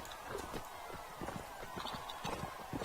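Rapid, rhythmic hoofbeats of a horse galloping in the Mount and Blade Warband video game, a fast clip-clop pattern heard at moderate level against a noisy battle background.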